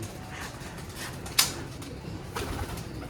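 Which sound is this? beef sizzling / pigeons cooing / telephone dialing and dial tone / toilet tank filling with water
pigeons cooing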